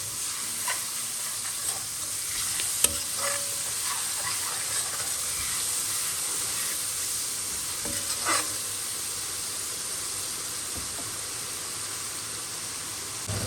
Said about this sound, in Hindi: अब इसे हम भूनेंगे अच्छी तरह से मसाले को।